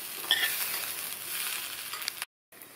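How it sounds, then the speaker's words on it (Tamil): Beans poriyal with spice powder sizzles softly in a pan on low heat, with faint stirring scrapes and a light clink, quiet and close before a brief drop to silence. "அப்பப்போ இந்த மாதிரி கிண்டி விட்டுக்கணும்"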